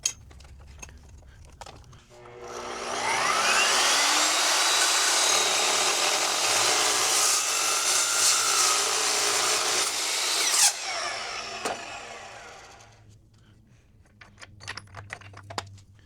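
An Evolution S14MCS metal cutting saw makes mitre cuts through metal stock, spinning up loud and steady for about eight seconds of continuous cutting before winding down, with scattered clicks and handling noise around it.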